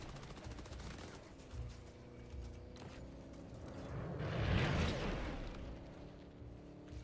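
Gunfire crackles in the Killing Floor 3 co-op shooter, with bursts of rapid shots over a droning engine-like hum and a heavier blast swelling near the middle, moderately loud without voices.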